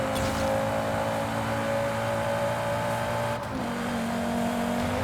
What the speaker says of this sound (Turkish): Ses güzel bak. 4 değil 6 değil 5. 5 silindirin sesi.